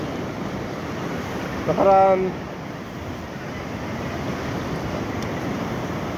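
Fairly big ocean waves wash steadily at a fishing spot, a constant broad surf hiss throughout, briefly overlaid by a single spoken word near the start.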